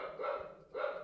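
A dog named Paulette barks twice in two drawn-out, moaning barks separated by a short pause, fairly close and loud.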